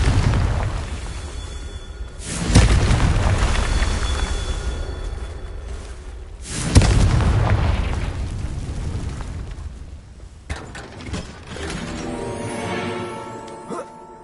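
Repeated fire-spell explosions in the video game Hogwarts Legacy, two loud booming blasts with long rumbling tails a few seconds apart, followed by softer crackling game effects.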